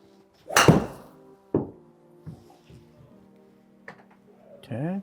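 A golf driver swung at full power hits the ground with the toe of the club, giving one sharp, close thud followed by several fainter knocks and taps, with a voice briefly at the end.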